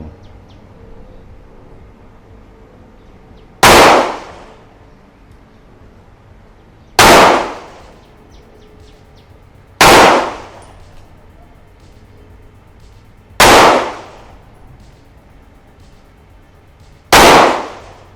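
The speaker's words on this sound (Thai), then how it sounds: "ผู้ยิงพร้อม พร้อมบรรจุแม่เข้าตัวปืน ขึ้นลำนะครับ คอนดิชันวัน พร้อมแล้ว เริ่มยิง" Five loud, sharp pistol shots at an 8-metre shooting range, spaced a few seconds apart, each with a brief decaying echo over quiet background.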